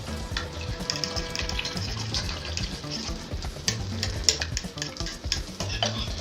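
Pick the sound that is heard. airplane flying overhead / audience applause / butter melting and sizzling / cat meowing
butter melting and sizzling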